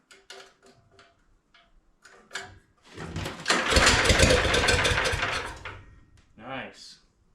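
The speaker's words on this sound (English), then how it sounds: "All right, engine on, choke, see what she does." A John Deere AMT 600 utility vehicle with a swapped engine cranks and catches on choke, rising into a loud rough roar for a few seconds before dropping off, with a voice speaking briefly before the start.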